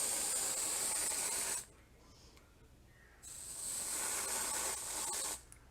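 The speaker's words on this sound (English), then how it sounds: "Whipped heavy cream is what I use, the spray." Two bursts of steady pressurized hissing from a can of whipped heavy cream sprayed onto a pie, separated by a short pause, close and fairly loud.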